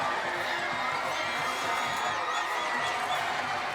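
A high school football crowd at Lee's Summit roars near the press box after a late touchdown, a steady wash of distant cheering and shouting with scattered whistles, sustained throughout with no break.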